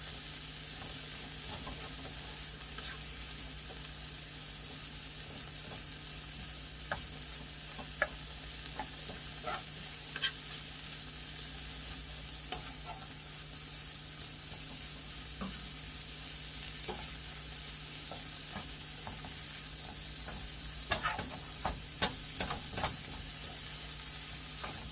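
Kale and onions fry in a pan with a steady, even sizzle for the whole stretch, broken by scattered scraping clicks as the greens are stirred, close up and without talk.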